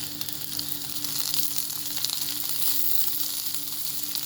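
Green chillies hit hot oil and sizzle steadily, a bright continuous frying hiss with a low hum underneath, no talk over it.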